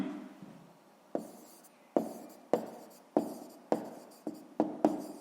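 Pen on paper writing out a maths exercise, a series of about nine sharp taps and short strokes at irregular intervals, quiet and close with no talk.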